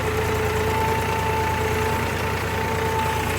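A 4x4 tractor engine runs steadily while levelling a farm field with its rear bucket full, a continuous loud mid-range drone with a faint whine on top, no pauses or talk.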